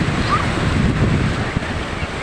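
Sea waves wash onto a beach in a steady roar, with wind buffeting the microphone across the short stretch.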